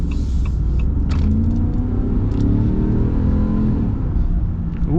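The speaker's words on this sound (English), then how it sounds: "Oh, the sound of the V8 is pretty cool too." A 2025 Ram Power Wagon Tradesman's V8 engine gives a continuous low, throaty rumble up close, swelling slightly as it revs, with no voices over it.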